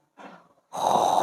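A man teaching Arabic letter pronunciation imitates a snore with his throat: a short, soft rasping breath, then a longer, louder and harsher snorting rasp, close and alone.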